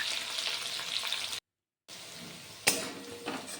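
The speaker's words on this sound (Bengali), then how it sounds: "ভালো করে ভেজে নিলাম রসুন আর কাঁচা লঙ্কা" Crushed garlic and green chili frying in a pan, with a soft steady sizzle broken by a brief silence, then a louder crackling burst as frying resumes, no talking.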